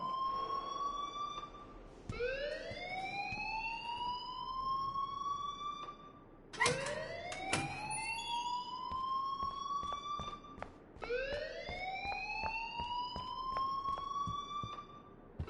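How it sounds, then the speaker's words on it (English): A rising electronic alarm tone from the game Life is Strange, sounding in three long upward-sweeping wails about four to five seconds apart, each starting abruptly, loud and alone. "please turn off that alarm since that's your job"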